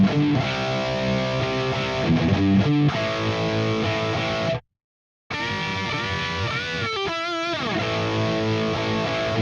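Heavily distorted electric guitar plays a riff with its fill, loud and close, in sustained chords and a quick run. It stops briefly for a short silence, then resumes with bending, ringing notes and no voices.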